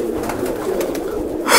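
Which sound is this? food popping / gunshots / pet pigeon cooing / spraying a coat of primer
pet pigeon cooing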